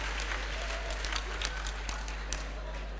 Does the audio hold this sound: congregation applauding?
yes